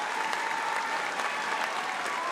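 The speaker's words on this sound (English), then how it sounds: "Let's give them a round of applause to these amazing scholars one more time." A crowd applauds steadily at a high school graduation ceremony, the dense, even clapping sustained at moderate loudness throughout.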